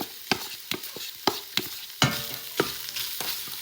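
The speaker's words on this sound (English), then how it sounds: "So now that the meat is no longer pink, I'm gonna add in my onion." Onion dropped into a pot of browning meat, with a series of sharp stirring knocks and scrapes over a steady sizzle, close and fairly loud, no voices.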